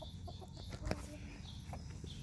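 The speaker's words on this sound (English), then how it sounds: "Here's our rooster." A rooster in a small backyard pen gives soft, scattered clucks, one sharper call standing out, faint against a steady outdoor background hum.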